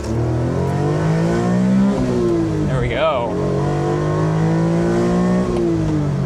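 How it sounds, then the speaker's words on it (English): A Honda Beat's small engine revs hard to redline through first and second gear, pitch climbing, dropping briefly at the shift, then rising again, loud and steady under someone talking. "2 red line pulls through first and second gear, and we're going a whopping 28 miles an hour."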